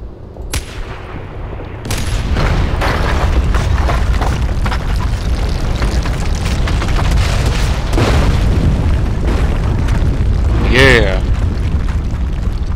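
In Far Cry 4, a gunshot sets off a planted explosive on a wall, producing a heavy, booming blast that swells into a long, loud, rumbling roar and echoes out across several seconds.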